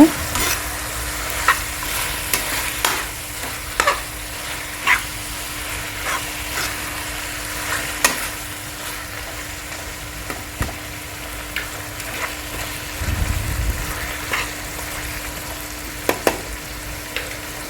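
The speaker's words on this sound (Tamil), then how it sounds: "தக்காளி போட்டு நல்லா கிண்டி விடுங்க" Chopped tomato stirred into chicken chukka frying in a pan, with a constant close sizzle and regular spoon scrapes and knocks against the metal, alone throughout with a brief low thump near the end.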